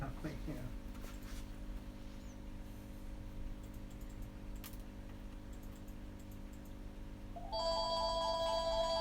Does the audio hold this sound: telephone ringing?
yes